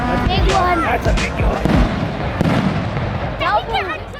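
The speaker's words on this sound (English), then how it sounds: "Once these fireworks are finished" Fireworks exploding at a desert motorbike race event, a rapid run of crackling bursts and pops with whistling streaks, near and loud, under excited talk from people nearby.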